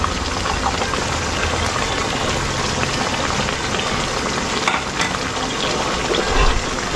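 Food frying with a whole chili pepper added, a steady loud sizzle and crackle with no break, scattered pops rising briefly near the end.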